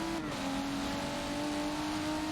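A video-game race car powers out of a turn at Brands Hatch, its engine a steady high drone with a strong buzzing tone that dips slightly and then holds. It is loud and continuous, with no talking.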